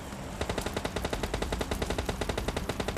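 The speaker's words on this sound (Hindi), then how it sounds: "आपको गन साउंड की आवाज़ आएगी भाई" Rapid automatic gunfire from PUBG Mobile Lite: a fast, steady stream of close, loud shots running without pause, with no talk over it.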